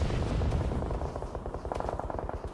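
Rapid gunfire bursts in the PUBG Mobile battle royale game during a women's esports tournament match, dense overlapping automatic-weapon shots with sharp repeated cracks, loud and continuous through the whole moment.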